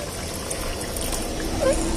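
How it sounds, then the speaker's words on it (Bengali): Water trickles steadily into a pot of fish curry with potatoes during roadside truck-driver cooking. The pour is brief and moderately close, with no talk. "জল দিয়ে দিলাম, আর একটু জল দিয়ে দিই"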